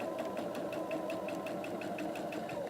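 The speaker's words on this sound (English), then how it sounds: "Sometimes a machine can have a hard time going over all that fabric." A sewing machine stitches across a thick quilt-block fabric seam: a steady close motor hum with rapid, evenly spaced needle ticks running throughout, with no talking.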